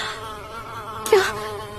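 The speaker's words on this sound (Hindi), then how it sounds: "मधुमक्खी बार बार आकर नताशा के कान के पास आकर गुनगुन की आवाज कर रही थी।" A bee buzzes close to the ear as a horror story sound effect, a steady droning hum with a louder swell near the end.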